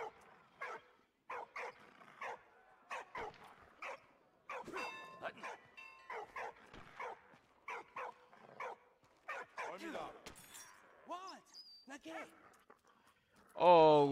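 Dog barks and whimpers from a canine companion in the video game Valiant Hearts, short repeated yips over a busy bed of in-game sound and voices, ending with a louder burst.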